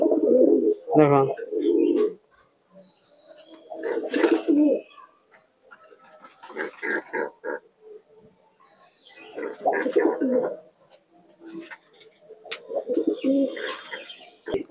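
Giribaz tournament pigeons cooing in bursts of throaty low calls separated by quiet gaps, close by, with a voice speaking briefly near the start.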